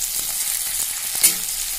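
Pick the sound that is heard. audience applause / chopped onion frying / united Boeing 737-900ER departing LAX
chopped onion frying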